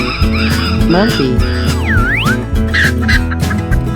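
A chicken clucks in a 3D animal slide game, short fowl calls over upbeat game music with whooshing and honk-like effects, close and loud.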